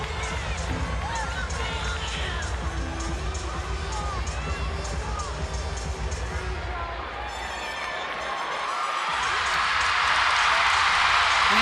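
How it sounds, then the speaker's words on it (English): Crowd cheering at an NCAA gymnastics championship beam final, a steady arena roar that swells louder toward the end as the gymnast performs her flight series. "You hear the cheer in the background as she does her flight series"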